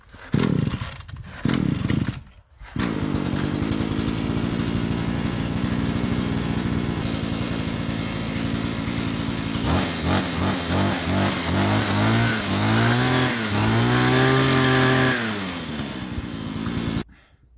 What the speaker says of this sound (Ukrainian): вмикаємо наш бензотример і заводимо. Все, він схватив